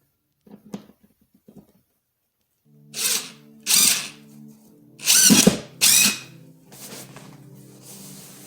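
A power drill drives a screw through fabric into a tufted headboard in several loud, close bursts of whirring, with faint handling taps before them.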